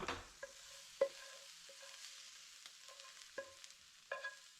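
Tortilla filling cooking in a frying pan, a low steady sizzle broken by several sharp clinks and scrapes of a utensil stirring against the pan, close up with no voices.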